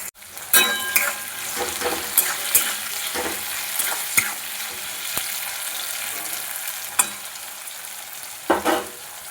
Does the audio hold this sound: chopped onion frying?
yes